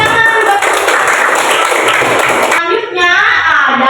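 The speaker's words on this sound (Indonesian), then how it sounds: "Oke, tepuk tangan buat" Children in an elementary school English class clap together in a loud, busy burst that gives way to a brief sustained tone and chatter near the end.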